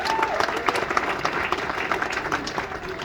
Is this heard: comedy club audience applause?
yes